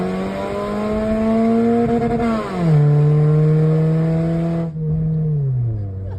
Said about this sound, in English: The motor was revving all the way out.